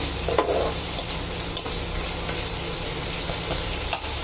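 Spiced koi fish masala, cooked in raw mustard oil, stir-fried in a pan gives a loud, close, continuous sizzle with scraping stirs and occasional soft knocks, and no talking.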